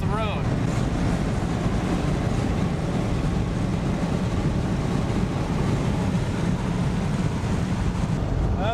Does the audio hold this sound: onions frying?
no